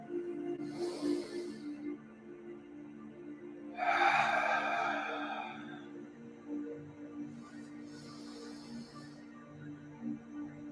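Deep yoga breathing: three slow, airy breaths, a soft inhale, a longer, fuller exhale through the mouth, then another quieter inhale, close and gentle over a faint steady background hum, with no talk.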